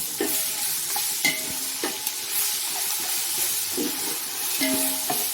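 Ginger garlic paste frying with onions in a pan for mushroom biryani, a steady close sizzle under repeated scraping and stirring clicks of a spoon against the pan, no voices.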